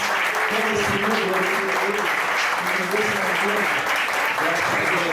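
A church congregation at a Baptist service applauds with dense, steady clapping throughout, while a voice speaks over it.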